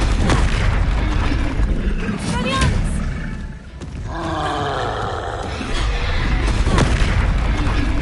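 Explosive booms of the Confringo blasting spell in Hogwarts Legacy, loud and repeated, mixed with roaring magical effects and other spell sounds, with no clear pause between blasts.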